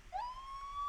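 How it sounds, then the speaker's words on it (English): A police siren on an LAPD Explorer in the video game Brick Rigs winds up sharply and then holds a steady, clear wail, fairly close and alone. "For sirens, you're going to press N."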